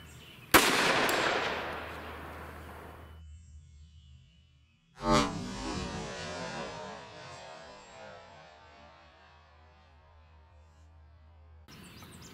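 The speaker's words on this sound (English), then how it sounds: "I'm gonna start with the Glock 29 first. We'll do two shots of Glock 29" Two loud gunshots from a Glock 29 chambered in 10mm, fired into clear ballistics gel, the first sharp crack at once and the second a few seconds later, each followed by a decaying echo tail with no talking.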